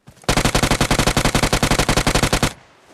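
Rapid automatic gunfire in a PUBG-style battle royale video game, a loud sustained burst of about twenty evenly spaced shots lasting a little over two seconds, then cutting off into quiet.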